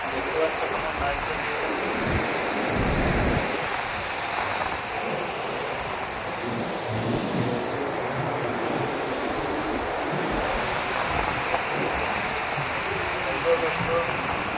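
Rough, swollen sea on a rainy day churning against the shore in a continuous loud rushing roar, with wind noise and surging pulses throughout.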